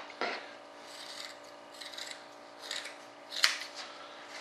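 Scissors or a blade cut across the cloth covering of an F-105 Thunderchief RC jet model, giving a series of close, scratchy rasping snips and rubs with a few sharper cuts.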